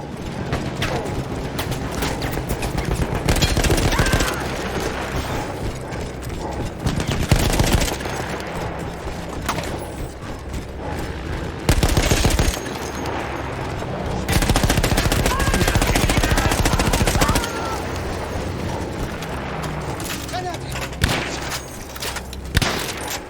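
Mounted machine gun firing in Battlefield 1, long loud sustained bursts of rapid automatic fire separated by short pauses, with battle noise behind.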